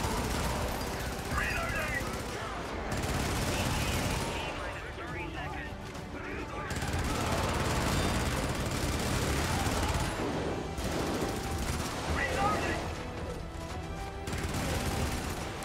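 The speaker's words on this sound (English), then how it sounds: "that turret and that tank guy, or robot guy, are taking care of all the work" Automated turret and robot gunfire in the co-op shooter game Helldivers, repeated bursts of rapid shots and explosions in waves, loud and dense, with players talking over the combat.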